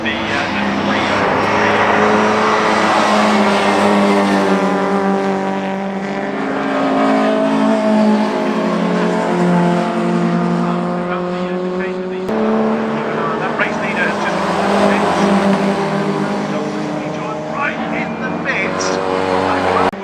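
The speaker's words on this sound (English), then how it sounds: "one of our two Jaguars have just come in. Just coming past me." Classic race cars, including a Jaguar, roar past trackside at Oulton Park, loud and close, engine notes sweeping up and down as they pass in succession, with a brief break before another car arrives.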